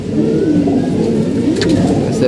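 Black pigeons coo close by in a continuous, loud, low throbbing murmur, with a few faint brighter sounds toward the end.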